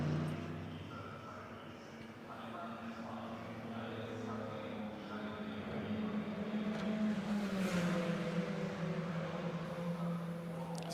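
A KTM car in DTM Trophy qualifying at the Lausitzring crosses the line, its engine note rising and shifting in pitch as it passes at moderate distance, with commentators talking over it.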